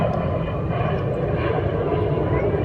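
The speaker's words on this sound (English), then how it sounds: "I'm waiting for the plane to pass." An airplane passing overhead near Ocean Beach, California, a loud, steady broadband engine roar that fills the whole stretch without fading, with no speech over it.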